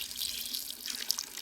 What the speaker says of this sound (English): I next poured on boiling water to rapidly melt away the remaining ice